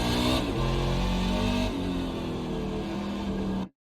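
Race car engine in the iRacing sim at Circuit of the Americas, loud and close, with a sharp engine note that drops in pitch under braking, a stepped rev change at a downshift, then a steady drone before cutting off abruptly.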